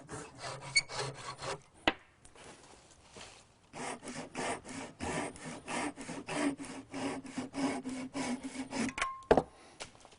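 A saw cuts through wood to trim the seat back parts of a rustic chair to length, with quiet rhythmic back-and-forth strokes close by and a few knocks in between.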